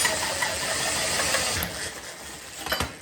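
A power drill fitted with a worn hole saw grinds through a metal roll cage tube, a continuous harsh cutting whir that roughens and catches as the saw breaks out the far side.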